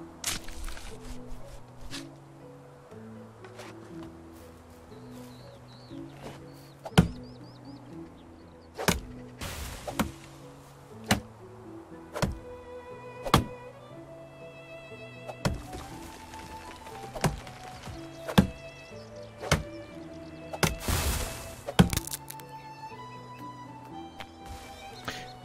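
Sharp axe chops ring out at irregular intervals while chopping wood in the video game Medieval Dynasty, over a quiet medieval-style background melody.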